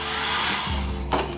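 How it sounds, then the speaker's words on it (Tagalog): A hair dryer in a hotel room blows with a loud, steady whooshing roar close by, then a brief click or bump near the end as it is switched or handled. "May blower na din kasama."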